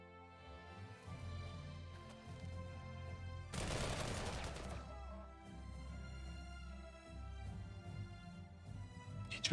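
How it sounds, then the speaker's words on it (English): Artillery fires in the Panzer Corps 2 war game as a single loud, rumbling blast lasting about a second, standing out against a steady background hum of music. "That was a weird artillery off there."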